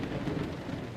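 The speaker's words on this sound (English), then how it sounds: "Alright, well, that thunder sounds amazing." Thunder in the X-Plane 12 flight simulator, a deep, continuous rumble mixed with hissing rain, heard close and fairly loud with no voices.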